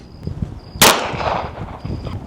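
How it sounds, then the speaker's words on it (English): A single sharp 9mm gunshot from a handgun fired at a 150 lb slam ball, loud and close, followed by a brief decaying echo. "Moving up to our 9mm."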